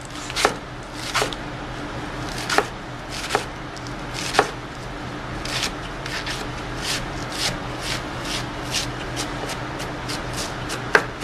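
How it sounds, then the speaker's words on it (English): A knife shreds a quarter head of iceberg lettuce on a cutting board with steady, crisp chopping strokes, close and fairly loud, in an even rhythm with no talking. "I have a piece of iceberg lettuce here. And what we're going to do is shred this."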